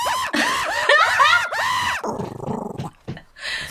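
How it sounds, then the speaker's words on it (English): A dog barks and yelps in a rapid run of strained, howling calls, loud and close, followed by rougher, broken vocal noises with short gaps. "Their barking is so cute."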